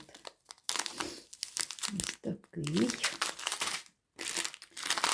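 A plastic packet of embroidery beads crinkles and rustles in close, uneven bursts as it is handled, heard alongside someone speaking.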